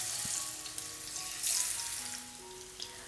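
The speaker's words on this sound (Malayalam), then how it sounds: "അപ്പോൾ ഇതുപോലെ ഒരല്പം എണ്ണ ഒഴിച്ച് കൊടുത്തിട്ട് നമ്മുടെ ഈ മീനൊക്കെ ഇതിലേക്ക് ഇട്ടിട്ട് ചെറുതായിട്ടൊന്ന് ഫ്രൈ ചെയ്തെടുക്കാം" Fish pieces frying in a little oil on a tawa make a steady, moderately loud sizzle with a brief swell of crackling partway through and a faint clink, no voices.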